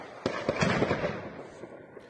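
Distant gunfire from a firefight in the Ukraine war crackles in a burst of several sharp pops close together, then thins out to a few scattered faint shots.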